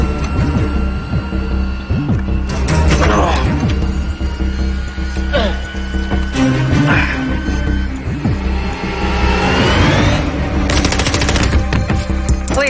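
Dense, loud gunfire effects in a Westworld scene, rapid automatic bursts and sharp shots layered over a driving orchestral score, continuous and intense throughout.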